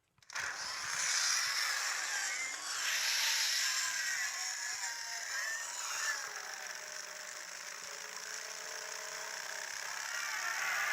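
The demonic sound effect of a Mezco Ghost Rider toy figure: a harsh, snarling, buzzy roar that starts suddenly and holds steady for about ten seconds, loud and close, with no one speaking over it.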